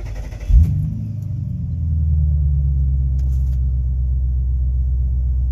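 A 1999 Ford F250 with a 5.4 engine cranks briefly and fires, then settles into a steady, deep idle rumble heard close up.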